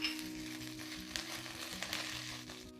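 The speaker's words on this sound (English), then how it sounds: "Fry till the raw smell of the ginger garlic disappears" Ginger garlic paste frying in a pan, a steady close sizzle and crackle with a few soft stirring scrapes, low-level and continuous.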